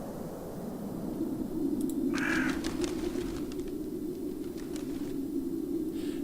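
A raven caws in the video game Raincliff, giving one brief harsh call early on over a steady, dense ambient hum.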